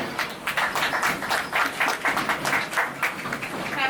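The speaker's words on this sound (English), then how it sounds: "Give yourselves a round of applause." Applause from train passengers aboard a theme park ride, a brisk patter of many hands clapping steadily and fairly close for a few seconds with no talk over it.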